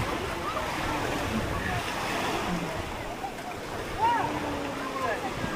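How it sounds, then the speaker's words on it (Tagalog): Sea waves at a beach resort in Nasugbu, Batangas, a steady wash of surf with wind noise on the microphone, continuous throughout with a slightly louder swell near the end. "So ito pala yung tinatawag na dagat."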